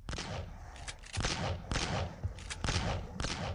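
Loud shotgun blasts in the zombie video game Boxhead fire in a steady, rapid series of about six sharp, booming shots, each a distinct burst.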